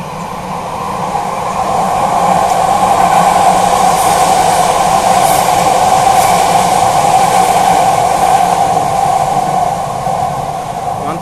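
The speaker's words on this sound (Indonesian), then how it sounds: "Oh, ada MRT nih." A Jakarta MRT train passes on the street, swelling into a loud, steady rumble and roar that holds for several seconds and then eases off, with faint voices in the background.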